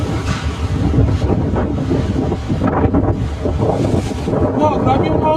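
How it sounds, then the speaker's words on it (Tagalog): Strong gusting wind buffets a ship that has scraped against another vessel, roaring loudly into the microphone with churning water beneath, while excited voices exclaim over the noise. "Wow, grabe yung hangin oh!"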